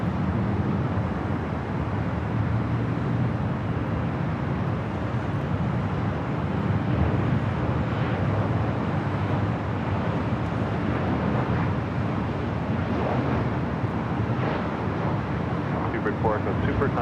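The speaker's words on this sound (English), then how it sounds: "British Airways 268 taking off to London Heathrow on the A380." A British Airways Airbus A380 takes off at LAX, bound for London Heathrow: a steady, broad, rushing engine roar that holds at an even loudness throughout, with no clear rise or fall.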